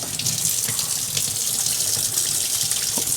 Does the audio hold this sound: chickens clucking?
no